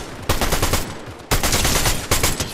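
Video game gunfire in bursts of rapid automatic shots, loud and close, three bursts separated by brief pauses.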